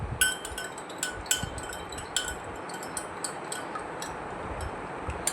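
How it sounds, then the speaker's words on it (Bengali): A spoon stirs agar agar powder into a little water, giving a series of light, irregular clinks against the container over a quiet background. "আর একটু জলের মধ্যে আমি 1 চামচ আগার আগার পাউডার মিশিয়ে নিচ্ছি।"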